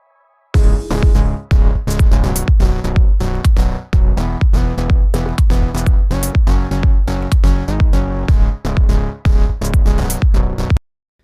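A choppy electronic bass line pumps in a steady run of short, punchy, deep notes with tight gaps between them, loud and alone for about ten seconds before stopping abruptly.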